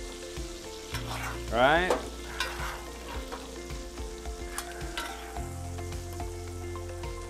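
A bone-in strip loin steak sizzles loudly in a pan while being basted, a constant close frying hiss with spattering bursts. A brief spoken word and a short rising tone break in early on.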